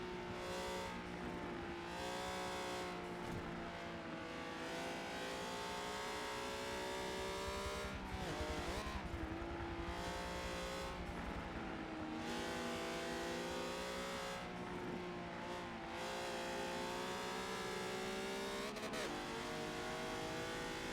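B-class race cars in a Forza racing game at Lime Rock roar continuously, engines revving and shifting as they push down the straightaway, with steady loud engine drone throughout and no talk.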